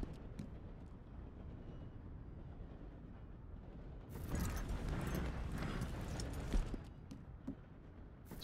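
Horse hooves in the video game Red Dead Redemption 2, starting with faint, soft steps under quiet ambience, then turning into louder, steady clip-clop with rustling as the horse moves at a brisk pace.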